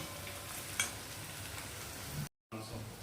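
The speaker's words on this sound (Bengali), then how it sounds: "গোটা জিরেটা দিয়েছ হয়ে গেছে ভাজা ভাজা" Whole cumin seeds fry in a pan with a steady soft sizzle and faint stirring, briefly cutting out near the end before resuming, with a voice audible at a low level.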